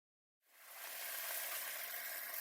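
Beef sears in olive oil in a hot pan, the sizzle bursting in after a short silence and holding as a steady, close hiss.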